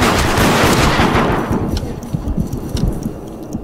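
Rapid gunfire in the horror game Deceit, a loud close burst of shots fading into a dense rattle of repeated rounds, brief and without talk.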